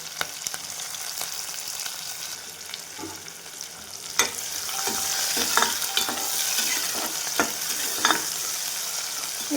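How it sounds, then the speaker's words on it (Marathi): Green chilli, onion, ginger and garlic paste sauté in a hot pan, giving a steady sizzle and crackle with scattered sharp pops and stirring scrapes throughout, growing slightly louder in the second half. "हिरवी मिरची, कांदा, आलं आणि लसूण पेस्ट हे पण छान भाजून घ्यायचं."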